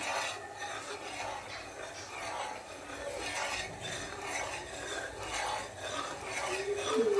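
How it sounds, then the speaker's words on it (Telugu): Homemade ghee is stirred steadily in a pan, giving a continuous scraping and rasping of a spoon against the bottom, with faint bubbling, close and moderately quiet throughout. "దాన్ని కంటిన్యూస్గా మాడకుండా అడుగంటకుండా కలుపుకోవాలి"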